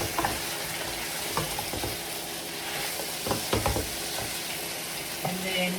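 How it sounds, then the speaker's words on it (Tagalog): Onions hit a hot pan of Filipino adobo and fry with a steady close sizzle, broken by scraping stirs and clinks of a utensil against the pan, with no talk. "Lagyan na natin yung sibuyas."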